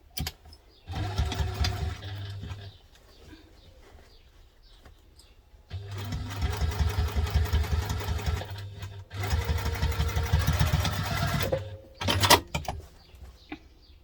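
Sewing machine stitching around a seam of a crossbody bag, running in three loud sustained bursts of rapid stitching separated by quiet pauses, followed by a brief final burst.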